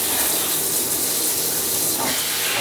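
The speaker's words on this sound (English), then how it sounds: "Very nice shower. Water pressure looks good." Hotel shower running steadily, a continuous broadband hiss of water spraying at good pressure, close and even throughout with a slight change in the spray near the end.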